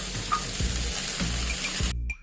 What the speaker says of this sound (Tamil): கேரட் பீன்ஸு பட்டாணியெல்லாம் போட்டு கொஞ்சம் நல்லா எண்ணெயிலே வதக்குவாங்க